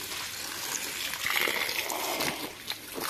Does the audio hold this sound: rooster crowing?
no